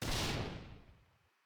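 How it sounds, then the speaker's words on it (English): Small airburst explosion sound effect in the Core game editor: a sudden loud boom that rumbles and fades away over about a second, heard alone. "Small explosion."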